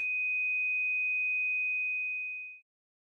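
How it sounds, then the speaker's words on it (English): A pure 2500 Hz sine test tone sounds alone, steady and unwavering for about two and a half seconds before fading out quickly into silence. "2500 Hz."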